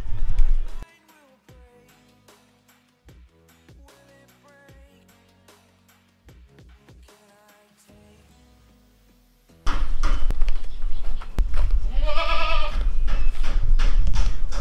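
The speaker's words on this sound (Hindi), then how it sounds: "अभी फीडिंग टाइम है, तो फटाफट बकरों को अंदर डालते, तीनों बकरे बाहर ही है" Goats bleat loudly at feeding time, a cluster of calls in the latter part after a quiet stretch with faint clatter, close and insistent.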